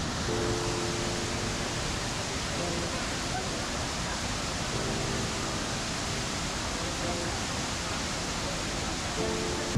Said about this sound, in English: there is a multi-layered waterfall known only as Ermayi Falls